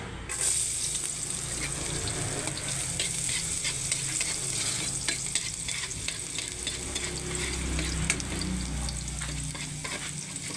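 Garlic sautés in leftover frying oil, giving a steady close sizzle with scraping stir strokes throughout and no talking.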